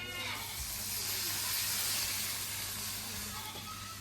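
Water poured into onions frying in a pan for a Bengali jute-leaf and prawn dish, producing a loud, steady hissing sizzle of steam that fills the whole stretch without a break.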